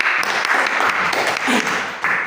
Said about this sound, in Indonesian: Kita berikan tepuk tangan kepada Pak Iki.